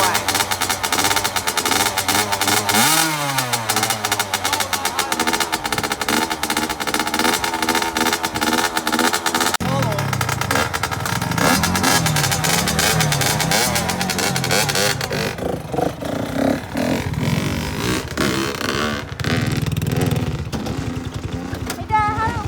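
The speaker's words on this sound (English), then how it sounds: "Someone's dirt bike is running." A dirt bike engine runs loud and close throughout, its revs rising and falling in rough waves with a buzzing, uneven idle between pulls, while voices talk over it at times.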